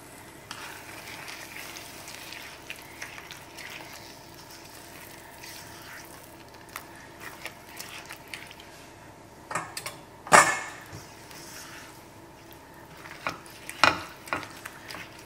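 Goan chicken masala curry being stirred and frying in a pan, a soft continuous sizzle with spoon scrapes and a few sharp knocks against the pan toward the end.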